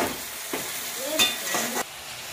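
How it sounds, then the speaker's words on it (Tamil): Tomatoes with rock salt frying in a pan, stirred with a few scraping strokes over a steady close sizzle, with no talking. "இப்போ நம்ம தக்காளி வதங்கிறதுக்காக கல் உப்பு சேர்த்துக்கலாம்"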